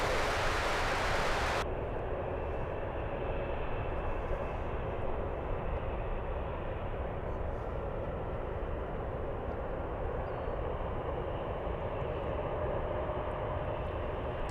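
A Southwest airliner bound for Denver passes near San Francisco's airport, its engines making a steady, loud, broad roar that holds for the whole stretch without breaks or voices.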